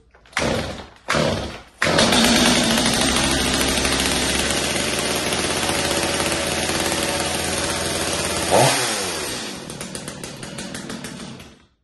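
A Stihl chainsaw on partial choke, halfway open, runs steadily at a loud, close idle after a couple of pull-start thumps, with a brief rev surge near the end before the engine winds down and stops.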